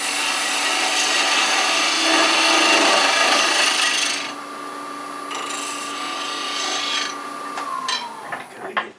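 A spindle gouge rounds a wooden handle spinning on a lathe at about 1200 rpm or more, giving a loud, steady, close cutting roar that eases partway through and ends in a few scraping catches as the cut finishes.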